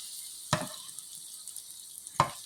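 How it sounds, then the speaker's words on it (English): Onions and peppers sauté quietly in a pan, a faint low sizzle with two sharp clinks of a utensil against the pan. "we've got the onions and peppers kind of sauteed"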